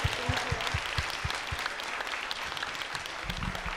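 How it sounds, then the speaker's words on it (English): Applause from a gathered audience, a dense patter of clapping with a few distinct low thumps early and late, fairly quiet and steady throughout. "Let's give her a round of applause"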